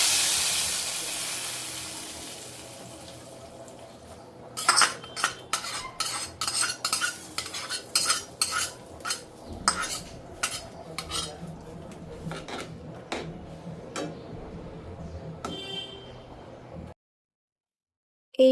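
An onion and garlic tempering for dal is stirred in a pan, a metal spoon clattering and scraping in quick irregular knocks over a soft hiss, before the sound cuts off.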